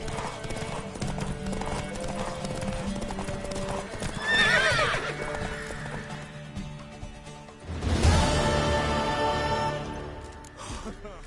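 In The Witcher 3, a horse's hooves clip-clop rapidly as it gallops, with two loud whinnies rising above the hoofbeats, the first around the middle and a louder one near the end, while voices talk faintly underneath.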